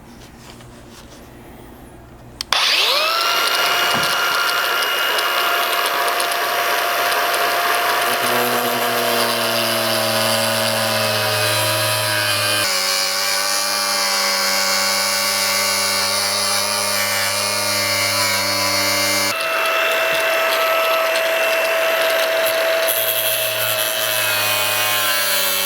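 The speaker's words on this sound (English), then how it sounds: "you're just using your cutting tool to follow along the tape line you just made" Harsh, loud grinding whine of a power cutting tool biting into a Toyota Land Cruiser 200 Series plastic front bumper along a tape line, running continuously with shifts in pitch as the cut progresses.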